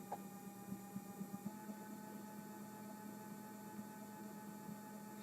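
A stepper motor mounted on a large wooden surface runs steadily at velocity 1800, giving a faint, even mechanical hum with a few soft ticks near the start, heard alone.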